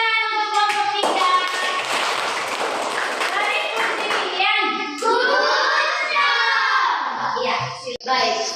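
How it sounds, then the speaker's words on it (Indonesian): A classroom of children claps for a discussion group during a science lesson, with loud bright applause mixed with children's voices and chatter, rising and falling across the scene. "beri tepuk tangan untuk kelompok 3"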